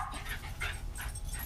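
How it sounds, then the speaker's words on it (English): Dogs barking faintly in the background during outdoor axe carving, giving short, quiet yips and whimpering barks in a few quick bursts. "Forgive my dogs for barking."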